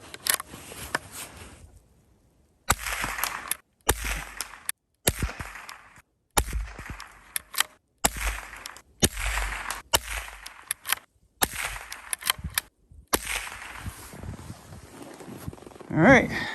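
Ten shots from a .22LR rifle firing Lapua Midas Plus ammunition in extreme cold, sharp separate reports spaced a second or so apart, with quiet handling sounds between them.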